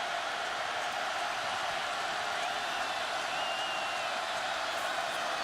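Broad, steady roar of an excited football stadium crowd at Michigan versus Minnesota in 2012, a continuous wash of cheering and noise with no breaks.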